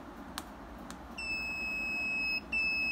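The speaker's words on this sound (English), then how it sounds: "The buzzer is triggered, and the message is well received." A buzzer on a Li-Fi inter-vehicle communication receiver sounds when a brake-light malfunction message arrives, a shrill electronic tone holding for over a second, briefly cutting out, then resuming, after two faint clicks.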